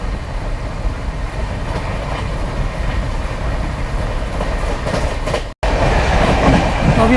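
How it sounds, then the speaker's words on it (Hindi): North East Express train from Anand Vihar to Kamakhya running at 130 km/h, a loud continuous rumble with rhythmic clickety-clack of wheels on rail joints, broken by one brief dropout before the roar resumes. "हमारी ट्रेन भी 130 किलोमीटर/आवर की स्पीड में चली"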